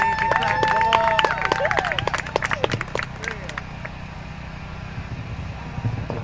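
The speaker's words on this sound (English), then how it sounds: "I think if we want to clap it up, get the energy going, please welcome to the stage Darius." A crowd at a live poetry event claps and cheers to welcome a performer, loud bursts of clapping and whoops at first, then thinning to scattered claps under a low murmur of voices.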